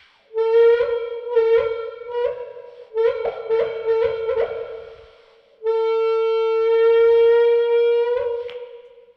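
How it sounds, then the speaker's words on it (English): Hum and whistling tones from a fuzz pedal with the guitar volume rolled down and a wah pedal engaged, steady pitched buzzing notes and bursts that swell and fade, with no talking. "if you have your guitar volume roll down and you have your wah pedal engaged, it's going to sound like this"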